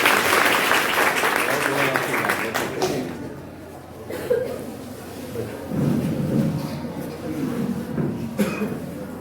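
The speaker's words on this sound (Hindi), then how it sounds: "आप सभी लोग तालियों से उनका स्वागत करेंगे।" A school audience gives a visiting teacher a welcoming round of applause, a burst of clapping that thins out after a couple of seconds into a few stray claps, coughs and murmuring voices.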